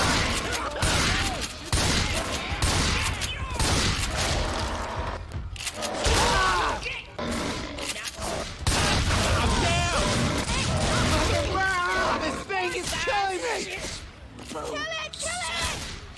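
Rapid bursts of gunfire from Left 4 Dead 2 as zombies are shot, dense and loud throughout, mixed with crashes and game noise under frequent excited talking from players.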